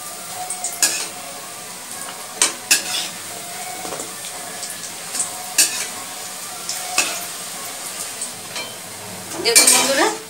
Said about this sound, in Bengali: মিডিয়াম করে এবার বড়াগুলোকে আবারও আমি লাল লাল করে ভেজে নেবো।